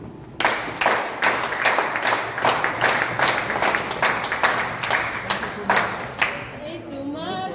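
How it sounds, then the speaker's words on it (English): A crowd claps steadily for several seconds at an indoor youth church service, a dense run of hand claps with a few voices mixed in, the applause easing off at the end. "I want to just clap for you"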